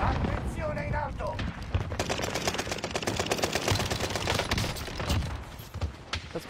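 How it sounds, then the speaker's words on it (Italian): Dense rapid gunfire from a video game, with bursts of automatic shots crackling continuously under excited talk and loud throughout. "La spara forte, raga,"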